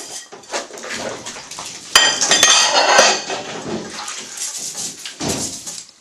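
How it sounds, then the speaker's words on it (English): Dishes scrubbed by hand with a scrubber at a kitchen sink, giving a steady close scratching and rubbing broken by sharp clinks and clatters of crockery, loudest in a busy burst midway. "one of our favourite scrubbers. I'll scrub your dishes."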